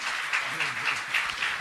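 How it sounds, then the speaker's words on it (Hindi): Audience applause at a Jain religious discourse, a steady wash of many hands clapping with faint speech underneath. "तालियां बजाइए"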